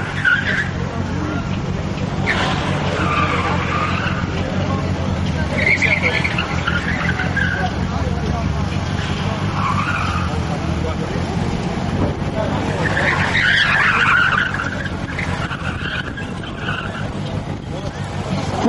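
A nearly two-ton Opel Vectra C 1.9 CDTI front-wheel-drive car drifts with a continuous engine roar and intermittent squeals of skidding tires, heard through wind noise. A voice speaks over it.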